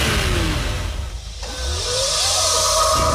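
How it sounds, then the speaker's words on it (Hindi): Tarzan, a restored self-driving wonder car in GTA 5, starts up and pulls away on its own, giving a steady mid-range engine hum that rises into a revving acceleration with a brief dip partway through, close and loud without any speech. "टार्जन खुद ब खुद ड्राइव करना शुरू कर देती है"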